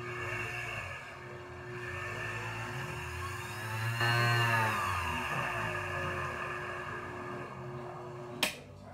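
A Graves Mark IV faceting machine motor runs with a steady, close electric hum and a faint rising whine partway through. A single sharp click sounds near the end.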